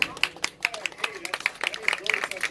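Audience at an alligator show in the Everglades gives scattered, sparse pity applause, a handful of uneven claps popping close by with light crowd murmur underneath.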